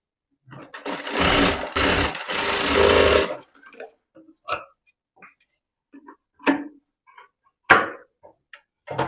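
A sewing machine runs in a loud close burst of rapid stitching lasting a couple of seconds as a strip is sewn onto the waist of a boat neck princess cut blouse, followed by scattered soft clicks and handling taps.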